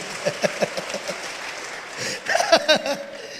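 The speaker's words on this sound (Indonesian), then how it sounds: "Berikan tepuk tangan buat Tuhan Yesus itu." A church congregation claps during a sermon, with sparse individual claps at first that thicken into a fuller burst of applause partway through, moderately close and loud.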